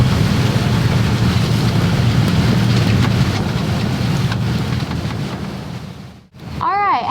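Strong wind at sea on a small sailboat, roaring in steady, loud buffeting gusts across the microphone for most of the clip, briefly dropping out before surging back.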